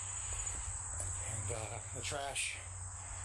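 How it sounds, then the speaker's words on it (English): Crickets chirp outdoors near a house and its trash area, a steady high-pitched trill running throughout beneath a man's speech. "You can hear all the crickets"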